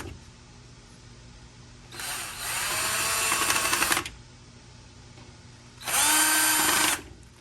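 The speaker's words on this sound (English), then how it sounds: "All right, let's drill her. Drill, baby, drill." A Ryobi power drill whines in two bursts, a longer one and then a shorter one, driving screws into a three-level shelf, with quiet room noise in between.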